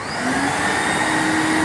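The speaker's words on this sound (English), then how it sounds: "and then we'll turn on our vacuum" An Ermator Husqvarna S26 vacuum switched on and running, a loud steady whining motor drone that rises briefly at start-up and then holds constant.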